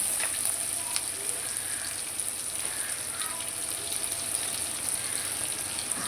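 Shallots sauté in a pan for pomfret fish curry, giving a steady, even sizzling hiss that runs unbroken at moderate loudness throughout, with no talking.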